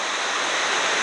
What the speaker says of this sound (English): The Cascade Waterfalls at the top, absolutely magnificent.